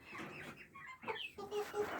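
Hens clucking close by in short, uneven bursts, several birds overlapping with soft throaty calls and a few higher notes.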